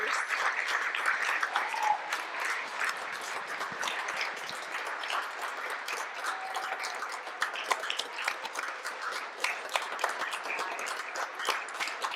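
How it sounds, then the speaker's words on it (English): A round of applause from the audience at a school board of education meeting for the student bowlers, many hands clapping steadily and fairly close for about twelve seconds. "one more round of applause to our amazing bowlers"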